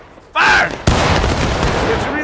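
A musket volley fired on command in the Civil War game War of Brothers: one big, ragged crack of many rifles going off together, then a long rolling echo. A shouted voice comes just before it.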